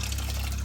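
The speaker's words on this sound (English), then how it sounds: "Tap in here running, and it's got hot water." Hot water running steadily from a tap into a sink aboard a boat, a continuous close rushing flow with a low hum beneath it, no voices.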